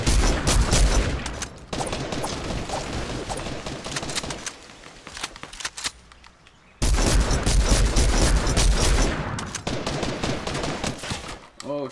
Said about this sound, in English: Watch out, he's shooting.